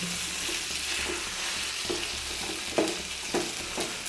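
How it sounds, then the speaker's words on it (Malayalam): Onions fry in a pan with oil while a spoon stirs them. A steady close sizzle runs throughout, broken by a few soft scraping stirs and taps, with no voices. "നല്ലപോലെ വഴട്ടി എടുക്കുക"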